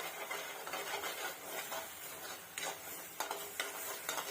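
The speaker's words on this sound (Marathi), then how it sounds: "वाटण आता आपण परतून घेऊया" Ground masala paste being sautéed in oil for a spicy dill-leaf curry, a dense steady sizzle with occasional scraping stirs and light utensil taps against the pan.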